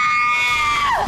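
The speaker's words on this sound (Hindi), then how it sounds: "फिर चीखी ये पागल।" A woman screams in a loud, sustained high-pitched cry lasting about a second, strained and wavering, breaking off into a falling squeal at the end, with no talk over it.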